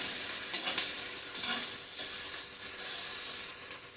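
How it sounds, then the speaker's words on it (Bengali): Sliced onions frying over medium heat in a pan while a spoon stirs them, a close, steady sizzle broken by scraping, clattering stir strokes throughout, with no talk. "পেঁয়াজটা একটু ভাজা হয়ে নেই"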